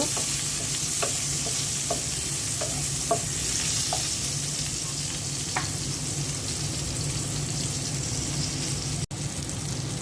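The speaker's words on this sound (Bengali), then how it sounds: "মাছ ভাজা তেলের মধ্যে পেঁয়াজ কিছু দিয়ে দিচ্ছি পেঁয়াজটা হালকা ভেজে নেব" Onions fry in leftover fish-frying oil in a pan, a steady sizzle under repeated scrapes and taps of a spoon stirring, close and continuous with a sharp click near the end.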